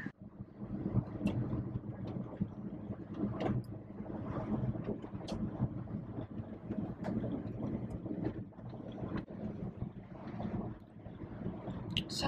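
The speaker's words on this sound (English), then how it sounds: "it is rather windy" Gusty wind buffets the microphone in a steady low rumble, with scattered faint clicks and distant traffic-like noise beneath.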